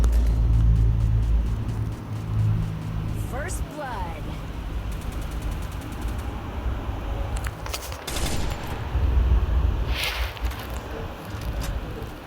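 Gunfire in the Free Fire video game, heard as bursts and rattles over a steady low engine rumble, with players talking over the action.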